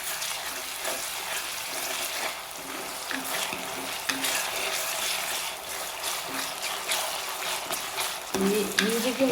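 Home-made ginger-garlic paste ground with vinegar frying in hot oil for a fish-head curry, a steady close sizzle with occasional stirring scrapes and a brief louder burst near the end, no talking.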